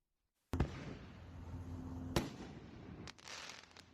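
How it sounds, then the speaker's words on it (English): Illegal fireworks go off in the sky ahead of the Fourth of July in Kern County, with two sharp loud bangs about a second and a half apart, crackling rumble between, and a few lighter pops. "illegal fireworks soar through the sky well before the 4th of July"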